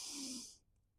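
A slow, controlled inhale during a golf swing flexibility stretch, close and soft, lasting about half a second before fading into quiet.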